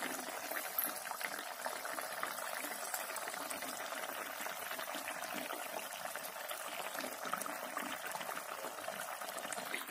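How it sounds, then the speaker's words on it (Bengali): A fish curry with cashew paste boils on a high flame, giving a steady, continuous bubbling and simmering hiss that stays even and close throughout, with no talking. "এটা কিন্তু এরকম হাই ফ্লেমেই বেশ কিছুক্ষণ আমি ফোটাবো"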